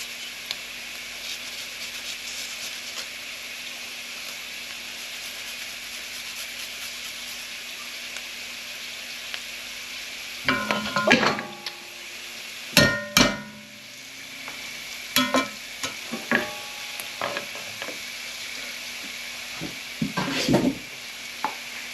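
Ginger slowly frying in a pan for chicken tikka masala, a faint steady hiss for the first half, then scraping, tapping utensil strokes and brief clatters as it is stirred, close and quiet overall.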